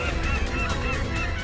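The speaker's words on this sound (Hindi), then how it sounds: "पक्षियों का समूचा झुंड आ रहा है।" A flock of geese-like birds honks continuously, dense overlapping calls filling the scene loudly with no speech.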